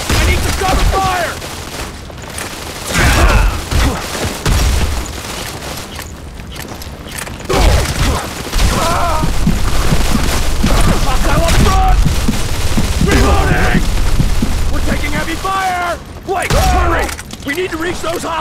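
Gunfire and explosions in the video game Modern Combat 4: Zero Hour, loud sustained automatic bursts and booming blasts layered together, with shouted in-game voice callouts breaking through the battle noise.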